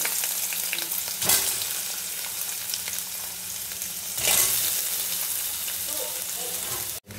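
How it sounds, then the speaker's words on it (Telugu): Paneer pieces frying in ghee crackle with a loud, steady sizzle. Two bursts of stirring flare up partway through, and a sharp click cuts off the sound at the end. "నెయ్యి యాడ్ చేసుకొని ఈ పీసెస్ అన్ని ఫ్రై చేసుకోవాలి"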